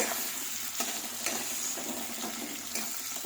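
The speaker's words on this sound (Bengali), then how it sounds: "কুচিয়ে রেখেছি পেঁয়াজটা একটু ভেজে নেব" Chopped onion frying in a pan, a constant bright sizzle with a few stirring scrapes, close and fairly loud without talk.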